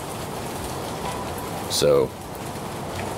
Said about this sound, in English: it's been raining for 2 weeks solid